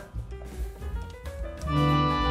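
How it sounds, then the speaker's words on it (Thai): After a brief jumble of sound, a sustained organ voice chord from a NUX NPK-10 digital piano holds steady and full, close and fairly loud, with no talking. "นี่เป็นเสียงออแกน"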